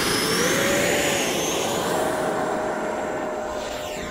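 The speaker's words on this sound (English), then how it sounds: "As the plane takes off, it immediately becomes unstable." Model jet airplane taking off and going unstable before a crash, a loud steady turbine whine with a high tone that drifts slightly, heard close and continuous, tapering a little at the end.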